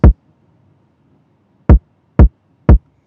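Four punchy kick drum hits boosted with EQ and driven through a saturator, one alone and then three in quick succession, each short, loud and booming with a clipped low thump and no other sound between.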